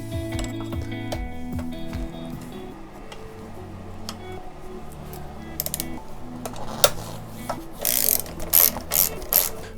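A ratchet spins to loosen the nut on a BMW R80ST motorcycle brake caliper, giving repeated close pawl clicks in bursts with some metallic clinks near the end.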